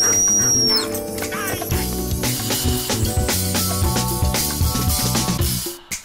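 A dog barks and yips repeatedly, loud and near, with some whimpering mixed in over a busy background of music and other sounds, in an animated cartoon.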